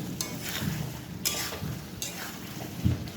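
Potatoes being sautéed in a pan for a pointed gourd curry, with steady sizzling and a spatula stirring and scraping in a few repeated strokes, close and continuous, with no talking.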